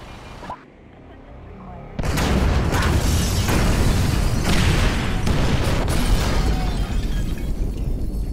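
Incendiary explosives detonate in Grand Theft Auto V: after a quiet, muffled stretch, a loud blast erupts and gives way to a sustained roar of rumbling fire and debris, with sharper bursts flaring within it.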